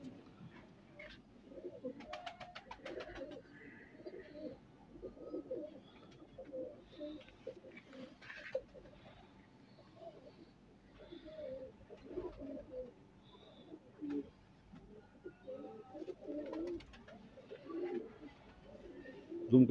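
A male Ferozpuri pigeon coos repeatedly, with low rolling calls in an uneven rhythm close by over steady background hiss and occasional faint clatter.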